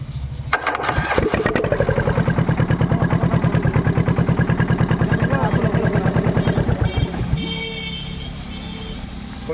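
A warm engine is cranked and catches, settling into a loud, steady chugging rhythm of rapid even beats for several seconds before easing off near the end, close to the listener.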